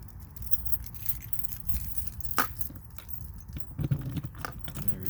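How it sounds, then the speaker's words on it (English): Keys for a Shasta 18BH travel trailer jingle and clink as they're handled, with a sharp metallic clack midway and more rattling later, all over a constant outdoor rumble of background noise. "I'll get my key here."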